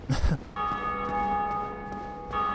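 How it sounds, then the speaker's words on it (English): The Bell of Awakening in the Dark Souls video game tolls once, a resonant metallic strike that rings on with a long, sustained shimmering decay, and a second strike follows near the end. "That bell of awakening is being rung once more."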